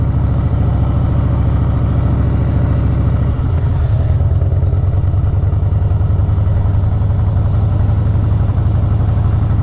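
A 2014 Harley-Davidson Breakout motorcycle engine runs loud and close, holding a steady deep throbbing idle with a slight blip near the middle and no talk.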